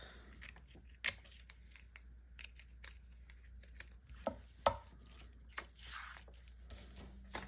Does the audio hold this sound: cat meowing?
no